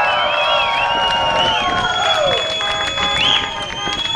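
A crowd at a summer camp show cheers and applauds for a performer, with loud whoops and shouting over dense clapping and many voices, heard from within the audience.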